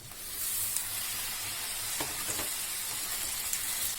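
Chopped tomatoes and a handful of cashews fry in a pan for paneer butter masala, giving a steady, even sizzle with a few faint clicks of a stirring spoon.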